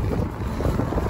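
Wind rushes and buffets outdoors at the Petrified Forest, a dense low roar with gusty flutter, loud and continuous for about a second with no voices.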